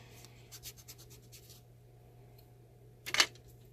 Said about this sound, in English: And then sand that little bit.